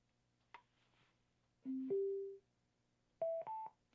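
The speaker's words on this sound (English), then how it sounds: "that first tone indicates the speaker's on and ready. The second tone indicates it's in Bluetooth pairing mode" Two short electronic tone sequences from a Xinborry M10 Pro Bluetooth speaker: a rising pair of beeps as it powers on, then a quick pair of higher beeps after a pause for pairing mode, clear and close.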